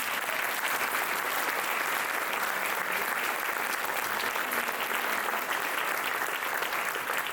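Audience applause for John at a Hurricane Helene anniversary event at UNC Asheville, a steady, dense clapping from a sizable crowd that holds evenly at full strength for the whole stretch with no talking over it.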